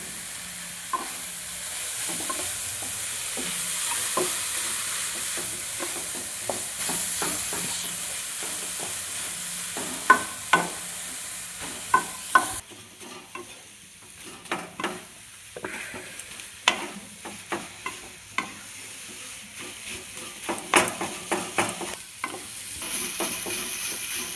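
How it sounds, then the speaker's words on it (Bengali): Vegetable chop filling with carrot being stirred and mixed in a pan, a steady sizzle and frying hiss broken by repeated scraping clicks of the spatula, close and unaccompanied by voices. "ভালো করে এরকম মাখিয়ে নিচ্ছি।"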